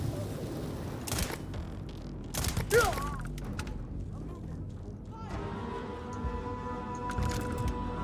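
Shotgun blasts in a survival video game, sharp bursts heard a few times in quick succession early on amid game sounds, followed by a steadier humming tone.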